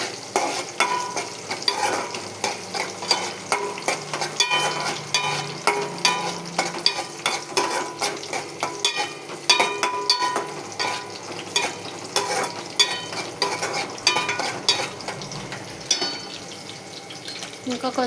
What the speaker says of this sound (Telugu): గోల్డ్ కలర్ చేంజ్ అవుతుంది, ఇంకో కొంచెం సేపు వేయించుకోవాలి.